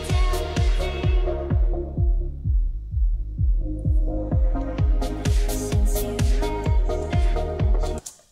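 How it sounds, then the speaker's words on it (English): A music loop with a driving four-on-the-floor kick is swept through an Ableton EQ Eight low pass filter, the highs cutting away to a muffled thump before opening bright again, steady and loud, no talk. "These are low pass filters, and as you can tell, it lets low frequencies pass and it cuts out all of these high frequencies"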